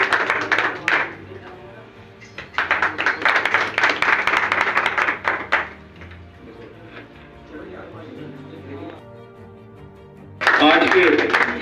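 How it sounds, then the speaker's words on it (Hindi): Audience applause at a Shiv Sena Constitution Day event honouring journalists in Meerut, loud bursts of clapping from a crowd in a hall that start, pause and resume, with a voice speaking in between. "ताली तो बजा दो।"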